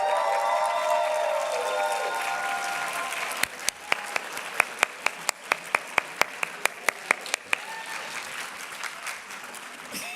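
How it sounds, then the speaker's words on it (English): An audience at a convocation ceremony applauds faculty and staff, a broad wash of clapping from a large crowd that swells, holds steadily, then thins out toward the end. "Can you all stand for a round of applause?"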